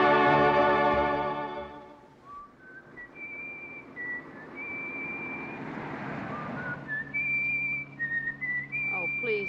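A person whistles a slow melodic tune in a 1944 war romance film, clear sustained notes after a held chord, near and alone.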